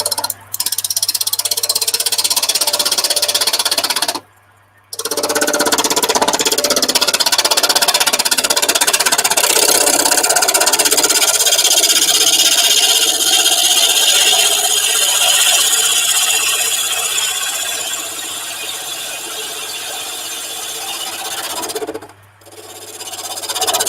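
A piece of Chinese elm turning on a wood lathe on a very hot morning: a steady, loud, broadband scraping hiss of the tool on the spinning wood, briefly stopping twice, with no talk.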